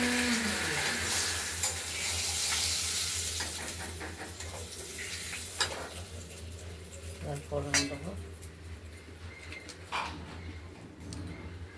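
Bay leaf, dried chilli and nigella seeds hit hot oil in a pan for a boal fish curry with potatoes and stems, giving a steady close sizzle that softens over time, with scrapes and clinks of stirring.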